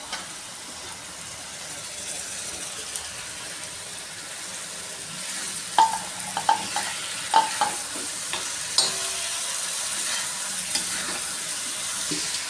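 Onion and tomato fry on a tawa for dhaba-style spinach bhurji, a low steady sizzle under a run of sharp spatula taps and scrapes near the middle, fairly quiet and close.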